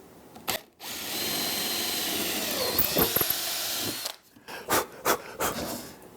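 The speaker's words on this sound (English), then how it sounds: "and drill the primary hole." A power drill with a brad point bit runs steadily for about three seconds, boring a hole into wood through a guide, with a few short bursts and clicks before and after.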